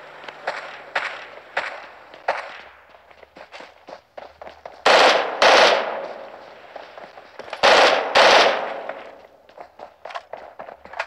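Bursts of automatic gunfire in the mobile battle royale game PUBG Mobile, loud rapid shots in two heavy volleys with scattered single cracks and footsteps between them.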